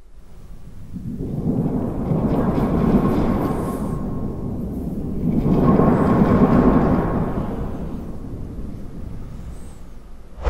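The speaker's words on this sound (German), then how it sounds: "Das ist das Donnerblech." A metal thunder sheet is shaken in two long, rolling swells of rumbling, thunder-like noise, each building and then dying away, loud and close with no talk.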